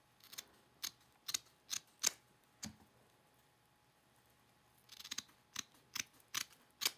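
Sides of a craft piece are trimmed with quiet, crisp snips, a run of five or six cuts, a short pause, then another steady series of snips close by.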